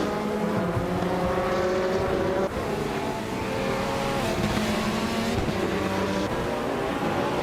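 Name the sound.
2017 Oreca 07 Acura race car driving in racing video game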